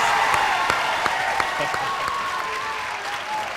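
A crowd applauds a climber topping a boulder at the IFSC Oceania Championships boulder finals, a dense, sustained clapping and cheering that slowly fades, with a commentator's voice over it.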